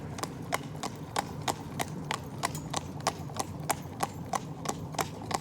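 A mare's hooves clip-clop steadily on a town road as she walks up, the evenly spaced, crisp strikes standing out clearly against low street background noise, with no talking.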